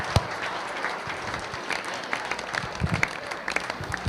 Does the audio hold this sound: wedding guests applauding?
yes